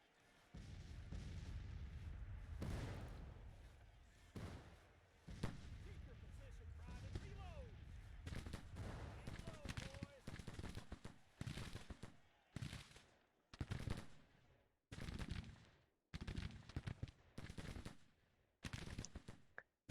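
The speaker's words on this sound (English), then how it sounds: "All of my guns all firing." Civil War artillery and rifle fire in the strategy game Grand Tactician: The Civil War, with booming cannon shots and crackling volleys at irregular intervals, mixed with someone speaking over the battle.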